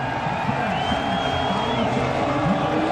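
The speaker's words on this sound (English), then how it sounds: "Here comes the encouragement from the Dutch fans as Verstappen comes through" Dutch fans roar for Verstappen at the F1 Dutch Grand Prix, a dense, steady crowd cheer with a whistle rising above it, heard from a distance.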